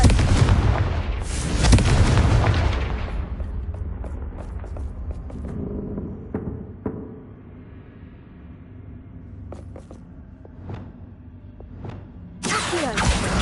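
Confringo explosive spell blasts in Hogwarts Legacy: a loud, rumbling explosion roars at the start and slowly fades, then scattered clicks and thuds follow before a second heavy blast bursts in near the end.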